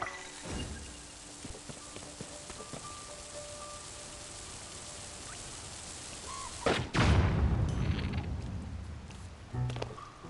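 Bombs go off in Zelda: Tears of the Kingdom, one loud booming explosion after a quiet stretch of ambient game sound, then a rumbling decay and a smaller thud near the end.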